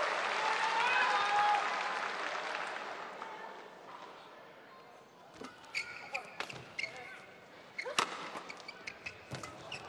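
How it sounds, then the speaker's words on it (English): Badminton crowd at a 2014 mixed doubles final, a loud sustained wash of cheering and applause that fades, then gives way to sharp scattered claps and shuttle hits in a quieter hall. "Just listen to the crowd encouraging."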